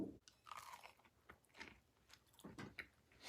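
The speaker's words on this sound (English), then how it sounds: "It's a great taste, nice and moist, but very crunchy." Biting and chewing a crunchy, moist dried fig and nut cake, close up, with several separate crunching bites spread through the stretch and no talking.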